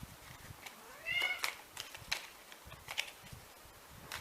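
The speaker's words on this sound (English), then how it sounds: "My cat is also talking with you" A cat meows indoors with a soft, rising call, followed by faint rustling and small tapping sounds in a quiet room.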